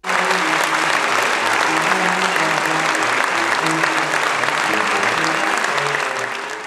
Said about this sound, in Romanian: Seara trecută a venit rândul constanțenilor să aplaude reprezentația regală la scenă deschisă.